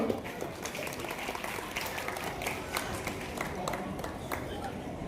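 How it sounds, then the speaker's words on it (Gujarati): An audience at a student award ceremony claps together, giving a steady, moderately distant patter of many hands that continues evenly throughout with a faint murmur of voices underneath. "સીએમ ભાઈઓને એકવાર જોરદાર તાળીઓ"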